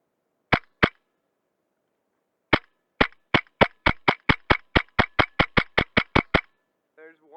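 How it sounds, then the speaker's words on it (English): Wolverine Inferno GEN2 airsoft gun shooting, two single sharp cracks, a pause, then a fast evenly spaced full-auto string of about seventeen snappy shots close by, with a brief voice at the end. "Full auto now."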